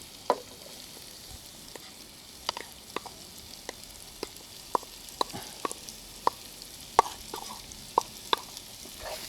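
Coarsely ground fresh peas sautéing in a pan for matar karanji, a low steady sizzle punctuated by repeated sharp taps and clicks of a spoon stirring against the pan, quiet and close with no talk.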